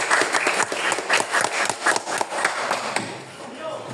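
Classroom applause as students clap together for a group's answer: steady, lively clapping from many hands close by that fades out toward the end.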